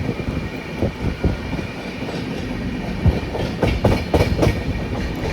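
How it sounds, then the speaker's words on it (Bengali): Shantiniketan Superfast Express rolling into Burdwan Junction, with steady rail rumble, rhythmic wheel clicks over joints and a few sharper clacks as the coaches pass through the points, loud and close throughout. "আমাদের ট্রেন এবার প্রবেশ করবে বর্ধমান জংশন"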